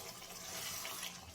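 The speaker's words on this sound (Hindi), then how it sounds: "तो इस टाइम पे मैं इसमें डालूंगी पानी" Water pours into a pan of aloo matar curry with fried masala, potatoes and peas to make gravy. It gives a continuous, even, rushing splash for the whole moment, fairly close, with no voices over it.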